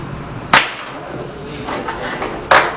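Clamp of a 3D vacuum sublimation heat press opening on mugs inside: two sharp, loud snaps about two seconds apart, each fading quickly into a quiet, hissing room.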